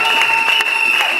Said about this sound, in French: Nous allons acclamer.